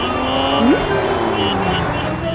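A car being driven, its engine a steady loud drone with a brief rising whine as it accelerates, alone without talk.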